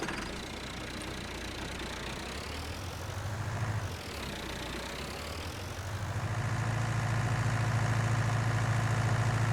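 Tractor engine idling in Farming Simulator 19, a steady low mechanical hum that dips briefly midway and then swells a little louder and fuller, continuous and close with no voices.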